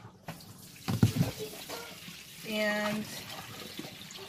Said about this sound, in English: it just pours all the water into the bin